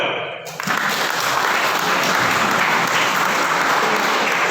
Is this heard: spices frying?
no